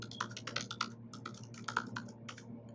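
Quick, irregular keystrokes on a computer keyboard as a password is entered during Ubuntu setup in VirtualBox, close and clear in short bursts over a low steady hum, with no talking.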